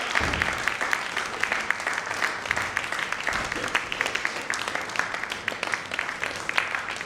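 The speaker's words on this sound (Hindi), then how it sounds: "तालियां बजती रहनी चाहिए जब तक सम्मान हो रहा है।" Audience applauding at an honour ceremony, steady dense clapping throughout with scattered crowd murmur underneath.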